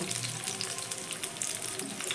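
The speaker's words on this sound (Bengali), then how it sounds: "এগুলো ভেজে নিতে হবে এইভাবে গরম তেল প্রত্যেকটার উপর আমি এইভাবে দিয়ে দিচ্ছি" Crispy snacks fry in hot oil on a medium gas flame while hot oil is spooned over each piece, a steady close sizzle with faint stirring and liquid splashes, no talking.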